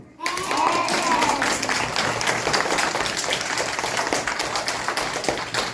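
Steady applause from a crowd, dense clapping filling the whole stretch at an even loudness, with some voices mixed in underneath.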